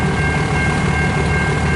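A CN L533 local freight train rumbles past near Range Road, a loud steady roar with a faint whine running through it.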